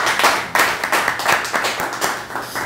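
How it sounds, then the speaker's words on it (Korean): Crowd clapping at a Korean community sports festival review meeting, loud and close with distinct rhythmic hand claps in quick succession, sustained for a few seconds without speech. "두 분께 또 박수 부탁드립니다."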